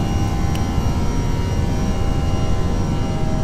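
Airbus A320 jet engines climbing just after takeoff in the Prepar3D flight simulator, a loud, steady broadband roar with a faint high whine running unbroken throughout, with no talking.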